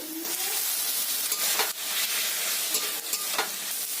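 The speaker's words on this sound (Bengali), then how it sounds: "এতে আমি দিয়ে দেব কেটে রাখা টমেটো কুচি" Chopped tomato hitting garlic and onion frying in oil, a dense, continuous close sizzle with a few sharper crackles and stirring scrapes, no voices.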